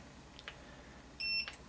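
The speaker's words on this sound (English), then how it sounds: "if you can hear me because of the buzzer, it's asking me to connect the fitting" An IPEX Genesis F3 electrofusion processor sounds its buzzer, one short, clear electronic beep standing out against quiet room noise, with a couple of faint clicks nearby.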